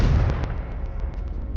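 The Confringo fire spell from Hogwarts Legacy goes off as a heavy booming blast that starts loud and rumbles away. Faint crackling pops scatter across the fading tail.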